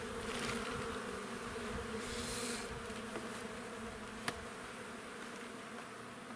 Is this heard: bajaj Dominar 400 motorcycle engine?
no